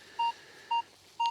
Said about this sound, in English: There's the double beep up at the 97